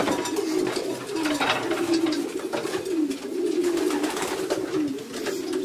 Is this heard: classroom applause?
no